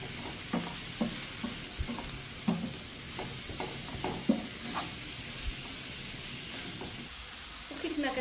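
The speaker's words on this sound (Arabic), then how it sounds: "كنبقى هكا نقلب فيها حتى كتذوب البصله وتذوب الفلفله" Onion and pepper stirred in sizzling oil in a pan, with a constant frying hiss broken by repeated scraping spoon strokes at an irregular rhythm, close and fairly loud.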